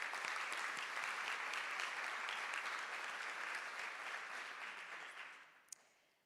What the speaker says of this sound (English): Let's give them a round of applause if we could